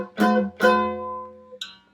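Two strums of a blues D dominant 7th chord on a mandolin ring out in quick succession and fade, followed by a brief light touch on the strings.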